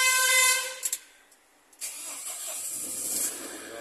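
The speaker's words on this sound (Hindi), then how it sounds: "गाड़ी होगी स्टार्ट" Vehicle engine starting: a high whining tone fades out, a couple of short bursts and near-silence follow, then the engine catches and settles into a steady close running rumble, with no talk.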